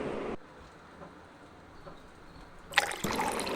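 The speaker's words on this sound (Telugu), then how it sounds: "వాటర్ వేసుకుందామండి గ్లాస్లోని." Cool water poured into a glass while making a summer drink with jaggery syrup: a short liquid burst at the start, a quiet stretch, then a louder splashing pour near the end, with no talking.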